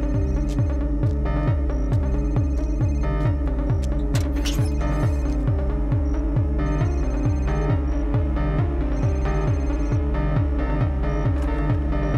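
A phone ringtone plays continuously from inside a car, a repeating electronic melody over a throbbing pulse, somewhat muffled and steady throughout with no voices.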